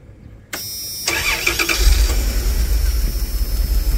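Car engine cranking over on the starter during an ignition coil spark test, a steady loud churning whir that kicks in after a click and continues without catching.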